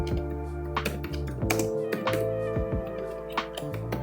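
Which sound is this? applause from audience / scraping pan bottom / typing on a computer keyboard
typing on a computer keyboard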